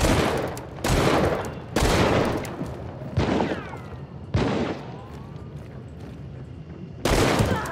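Springfield rifle gunshots in the video game Hunt: Showdown, six loud sharp reports spaced irregularly, each trailing off into a ringing decay, heard close with no voices.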